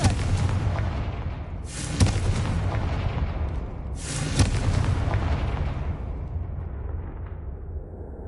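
Confringo blasting curse explosions in Hogwarts Legacy, two heavy booming bursts a couple of seconds apart over a dense rumbling game soundscape, each with a bright crackling blast that decays into a fading roar.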